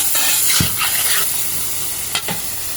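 Fresh tangra fish from the pond fry in hot oil, giving a steady close sizzle and hiss broken by a few stirring scrapes.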